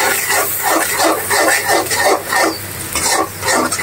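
A spice masala of chili powder, coriander powder and salt stirred and fried in a pan for magur fish curry: steady rhythmic scraping strokes over a continuous close sizzle.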